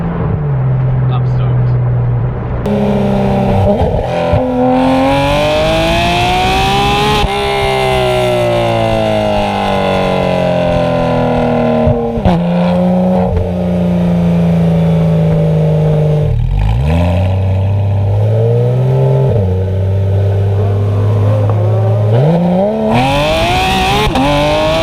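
A Porsche 991.2 GT3 RS fitted with new headers and exhaust revs repeatedly, its engine tone sweeping up and down in loud, close blips and sustained pulls, with someone talking over parts of it.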